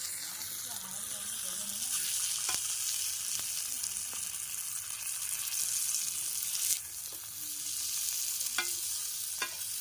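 Fish frying on a tawa gives off a continuous close sizzle while the pieces are stirred and flipped, with several sharp scraping clicks of a spatula and a voice speaking faintly in the background.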